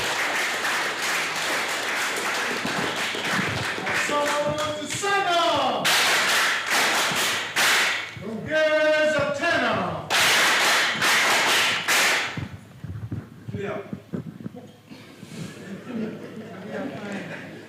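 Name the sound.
audience applause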